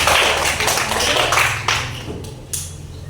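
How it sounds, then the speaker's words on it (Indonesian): A classroom of students gives a short round of applause for a presenting group: a burst of clapping that thins out and fades, with a couple of final isolated claps near the end. "Tepuk tangan untuk kelompok 3"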